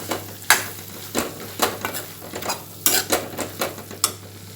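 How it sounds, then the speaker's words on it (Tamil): Chili powder and coriander powder being sautéed in a pan for a Tamil fish curry masala, with repeated scraping spoon strokes against the metal and a faint sizzle underneath, close and fairly loud, with no talking. "பாதி மல்லித்தூள் சேர்த்து நல்லா வதக்கலாம்"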